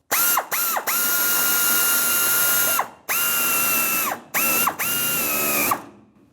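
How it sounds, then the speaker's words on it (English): An 8mm (5/16) socket ratchet snugging a bracket clamp on the filler neck of a 1992-1996 Ford F-150 fuel tank gives several bursts of rapid clicking, close and clear, with short pauses between strokes. "with my 8mm socket or 5/16, I'm going to snug up the bracket clamp"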